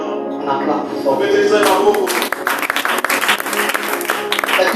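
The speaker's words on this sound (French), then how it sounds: "On acclame plus fort." A church congregation applauds loudly and steadily, dense clapping building and sustained throughout, with a voice speaking over it at the start.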